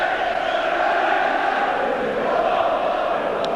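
A large football crowd of about 32,000 at Elland Road in Leeds during a tense cup semi-final: a steady, loud wash of roaring and chanting continues without a break.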